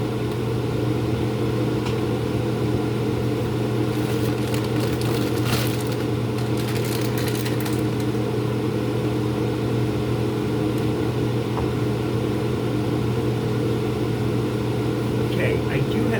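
Loud kitchen vent fan droning steadily throughout, a constant humming whir with tonal bands, while a person talks over it during quiche preparation and brief clatters of utensils come and go.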